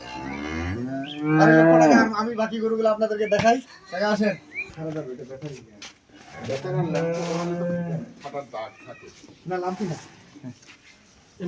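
Holstein Friesian bull cattle at a farm collection in Natore and Naogaon give low, drawn-out moos, two stretches close by, mixed with someone talking throughout.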